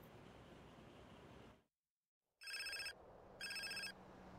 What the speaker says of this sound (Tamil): ஸோ இப்போ சிஜிக்கு ஒரு ஃபோன் கால் வரும்